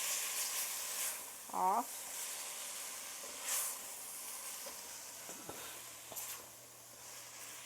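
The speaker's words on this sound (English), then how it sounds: "those tomatoes are going to start to deglaze the bottom of this pan" Tomatoes hiss and sizzle as they deglaze a hot pan, with soft bursts of steam, moderately close, under intermittent speech.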